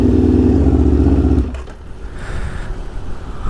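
A 660 sport motorcycle idles loudly and close by at a sunny beachside spot, then the engine is switched off after about a second and a half, leaving quiet ambient noise.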